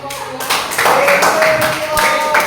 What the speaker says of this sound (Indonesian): Dengan tepuk tangan